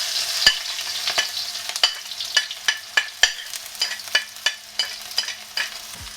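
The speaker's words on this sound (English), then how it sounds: "So we're gonna cook these for about 10 to 15 seconds. You want this hot wok and the oil to soak up the flavors of the black beans, the garlic, the chilies" Clams, black beans, garlic and chilies stir-fry in oil in a hot wok, sizzling loudly and steadily while a spatula scrapes and clacks against the metal in quick, repeated strokes.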